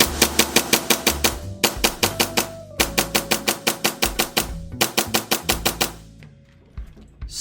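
A Hi Capa airsoft pistol fires rapid snappy strings of shots, several quick bursts of sharp close cracks separated by brief pauses, with no voices.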